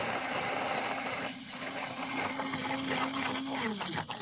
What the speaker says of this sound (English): That blender sound alone will make you salivate.